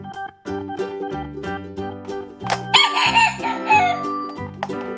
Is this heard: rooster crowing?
yes